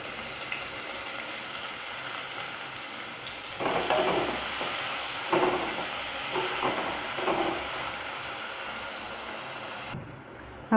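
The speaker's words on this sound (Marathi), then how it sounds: "त्याच्यामध्ये आपण हे एक कांदा आहे तो टाकायचा आहे आणि चांगला असा भाजून घ्यायचा आहे," Onion frying in hot oil for a prawn biryani, a soft background sizzle that swells with several stirring scrapes and crackles midway before settling, with no talking.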